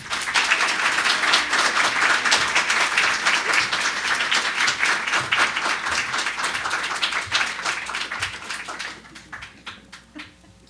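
An indoor audience applauds to welcome Peggy Seeger and Mary Cliff, dense sustained clapping from a crowd that holds steady, then thins and fades out near the end.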